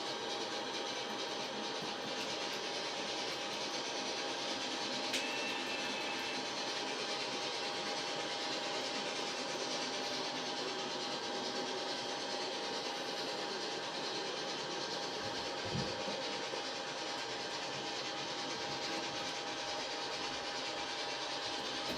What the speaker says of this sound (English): The Victory is geared very, very slowly because it's supposed to be a shunting loco.